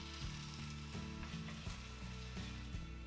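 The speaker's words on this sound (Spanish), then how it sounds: "añadimos los langostinos. Y removiendo de vez en cuando, cocinamos durante unos minutos más" Prawns and eggplant sizzle steadily in a frying pan, with soft periodic scrapes and clicks as a utensil stirs them every half second or so, close and continuous.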